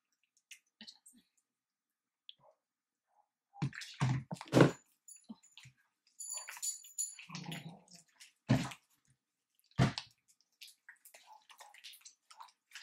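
Running water splashes over hands as slime is washed off at a sink, in short irregular bursts of splashing and dripping with quiet gaps between them, close to the microphone.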